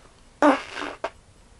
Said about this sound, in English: A big fart just like that